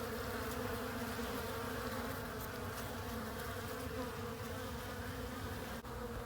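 Dense, steady droning of many honey bees swarming around a house during a trapout, a close, continuous hum with no break.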